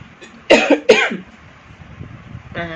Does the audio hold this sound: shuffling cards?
no